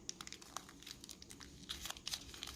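Sheet of paper being folded and creased by hand into a spinning top: close, quiet crinkling and rustling with sharp little crackles throughout, no talking.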